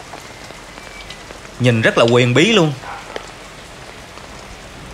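Steady rain falls on surfaces at a temple with a bodhi tree, a close, even patter throughout while a person speaks briefly in the middle.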